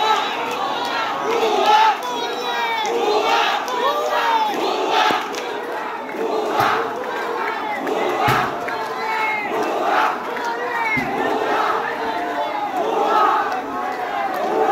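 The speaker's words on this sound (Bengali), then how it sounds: "অনেক বড় মিছিল, যে মিছিলটা আসলে বলে দিচ্ছে যে টাঙ্গাইল জেলার এতগুলা ছাত্র একাত্র হয়েছে" A large crowd of students on a protest march in Tangail chants together, a dense mass of voices rising and falling in rhythmic bursts, steady and moderately loud throughout.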